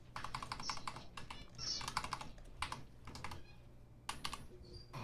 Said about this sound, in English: I hear you clicking and clacking, Linus.